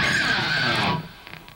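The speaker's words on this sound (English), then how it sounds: "You can't just go ripping at them because they sound like this." Sloppy electric guitar pick slide, a harsh scraping screech that sustains for about a second before cutting off, leaving faint noise behind.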